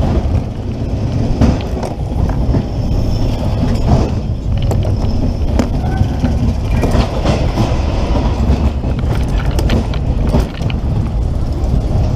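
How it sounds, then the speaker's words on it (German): A Dizzy Mouse spinning roller coaster at the Vienna Prater amusement park rattles and clatters along its track, with loud continuous wheel rumble and rhythmic clacking heard from on board, with occasional squeals and bumps. "der Rollercoaster ist auch geil."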